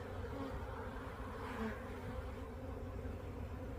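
A beekeeper's colony of honeybees hums with a steady, dense buzz that stays close and constant throughout, with no voices.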